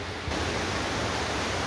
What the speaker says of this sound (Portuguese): Olha aí, gente, que chuva maravilhosa